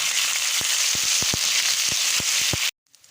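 Garlic ginger paste hits hot oil with browned onions and curry leaves for aloo gobi, giving a loud, steady sizzle with sharp crackling pops that cut off abruptly near the end.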